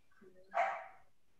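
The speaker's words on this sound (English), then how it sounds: "I think that's my dog." A dog barks once from another part of a house during a livestream, a single short, mid-loud bark rising and fading over a quiet background.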